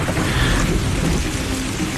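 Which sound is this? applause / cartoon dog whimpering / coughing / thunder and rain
thunder and rain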